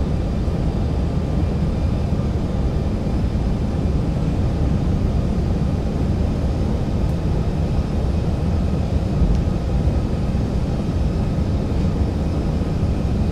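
Boeing 737-800 on final approach in the X-Plane 11 flight simulator, a loud, steady broadband jet engine and airflow roar that holds constant throughout with no talking.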